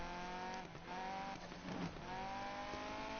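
A Mazda Miata in a racing video game drones steadily at high revs with a brief tire squeal in the middle, the engine tone holding constant and loud throughout.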